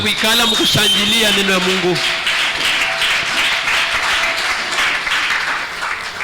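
A church congregation applauds and cheers for the word of God, a dense wash of clapping and voices that rises after a brief stretch of a voice and keeps going strongly to the end.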